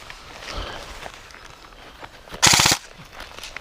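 An airsoft gun fires one quick, loud burst of rapid shots after a few quieter rustles and footsteps outdoors.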